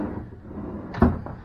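A hotel room's top drawer is pulled open with a single short wooden knock and slide, close by, after a quiet room hum, with no speech.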